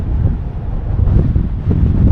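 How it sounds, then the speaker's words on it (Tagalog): Wind buffeting a microphone outdoors at the Chiang Kai-shek memorial in Taiwan, a loud, continuous low rumble with no talking. "Mahangin naman."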